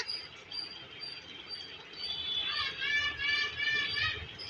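A crow calls outdoors near a home, sending a run of repeated, fairly clear calls over steady background noise.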